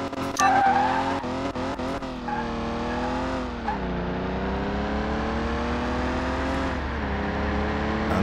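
A BMW drag car with a freshly rebuilt engine accelerates hard on a practice run at a drag-racing event. The loud, close engine climbs in pitch through several gear changes, then holds a steady high-revving roar.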